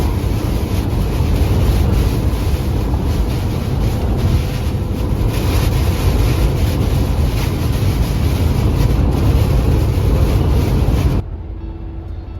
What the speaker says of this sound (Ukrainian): дуже сильний вітер, потужний такий що